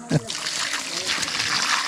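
Water splashed from a hose or bucket onto laterite stone masonry of a garden shed under construction, with a short, sharp splash at the start followed by steady spraying and trickling.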